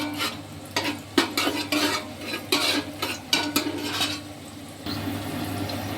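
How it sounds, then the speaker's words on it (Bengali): Green peas, cinnamon, cardamom, cloves and nuts fry in oil in a wok for fried rice, giving a steady close sizzle broken by repeated scraping stirs, with no voices. "দেখুন কড়াইশুঁটি এবং দারচিনি, এলাচ সব ফ্রাই হয়ে গেছে।"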